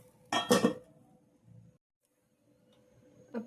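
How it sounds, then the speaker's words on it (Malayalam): A lid set on a pan on the stove, giving a brief, close clatter of metal near the start, then a faint light knock and near silence, with a small clink at the end. "ഞാൻ അടപ്പിട്ട് അടച്ചു വയ്ക്കാവേ"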